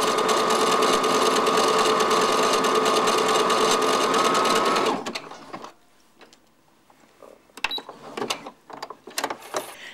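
Sewing machine stitching a bias seam in stretched knit fabric, running loud and steady for about five seconds before stopping, followed by faint clicks and handling sounds.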